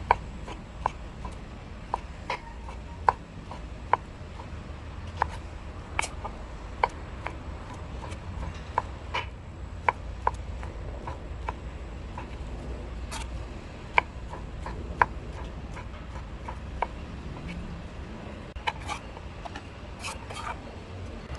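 A knife slices Thai pork sausage (moo yor) on a cutting board, first halving it and then cutting pieces, giving sharp, irregular close taps spread over a quiet background without talk.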